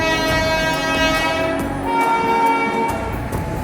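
A train sounds steadily and loudly, with strong sustained horn-like tones and rumbling rail noise throughout, no voices.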